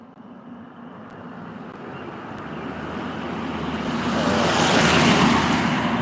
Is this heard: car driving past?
yes